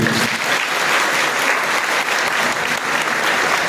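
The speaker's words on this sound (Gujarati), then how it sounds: "તમે એના માટે તાળી પાડીશું।" An audience at a public event in Nadiad claps together in a loud, steady burst of applause that lasts throughout, close and dense, with a faint murmur of crowd noise underneath.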